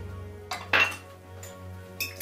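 Milk, oil and eggs being mixed together in a bowl for blueberry muffins, with a few short clinks and scrapes of a utensil against the bowl.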